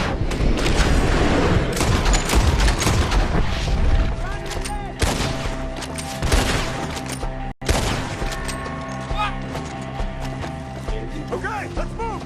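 Rapid gunfire from a Red Dead Redemption 2 shootout, loud volleys and bursts running throughout over layered game music and effects, with a brief dropout near the middle; voices talk during the fighting.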